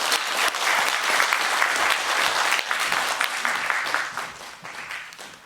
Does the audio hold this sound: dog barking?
no